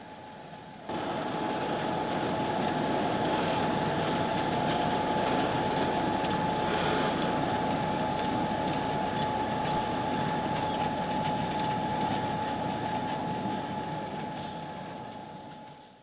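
Railroad cars are drawn slowly by a cable from a drum winch driven by a small electric motor, feeding a sugar beet conveyor. A steady, even rumble carries a thin sustained whine, with no talk, and fades at the end.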